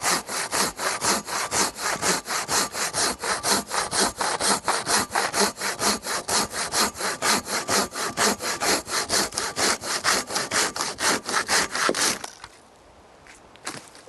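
Japanese Silky Bigboy pull saw cutting through wood, with a steady run of close, loud rasping strokes in even rhythm that stops abruptly near the end, leaving quiet.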